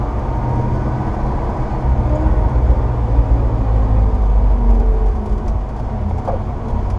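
A 1971 GMC Suburban, an old truck, drives along with a steady low engine rumble and road noise throughout, fairly loud and continuous with no talking.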